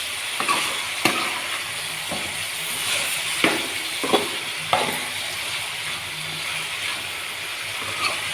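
Ridge gourd with turmeric fries in a pan with a steady hiss, broken by several sharp clacks and scrapes as a spoon stirs it, close and clear with no talking.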